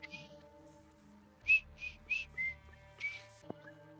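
A person whistles a short, bright, merry tune of several distinct notes with small gaps between them, close and clear over a quiet background, imitating a woman whistling loudly.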